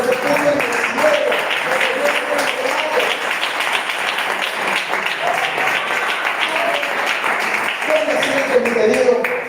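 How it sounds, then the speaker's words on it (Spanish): A church congregation applauds during a Spanish-language family worship service, dense clapping from many hands blended with voices and shouts, steady and loud throughout. "usted le da un aplauso al Señor."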